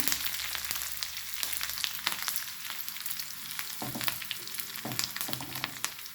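Garlic and curry leaves sizzle steadily in hot tempering oil for a lentil-style sambar, a dense crackling fry with sharper pops and stirring clinks scattered throughout, close and continuous.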